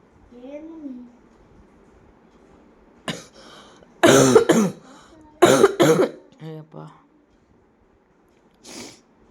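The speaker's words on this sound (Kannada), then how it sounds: "ಕೆಮ್ಮು ನೆಗಡಿನೂ ಆಗ್ಬಿಟ್ಟೈತೆ ಜೊತೆಗೆ" A few harsh, bursty coughs from a person with a cold and fever sound close by, separated by pauses, with a short vocal sound at the start.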